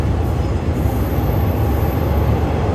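Another train passes on the adjacent track while leaving Bangkok, a loud, close, continuous low rumble of rolling railcars with a steady rattling wash throughout and no voices.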